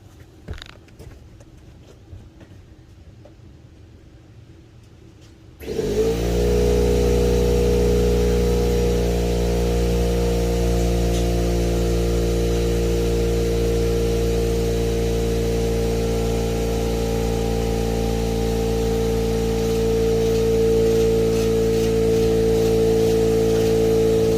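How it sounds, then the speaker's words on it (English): An air compressor on a water trailer project starts abruptly after some quiet handling noises, then runs at a loud, steady, droning hum with a strong low rumble, continuing unchanged to the end. "go fire the compressor up, bring the hose on over"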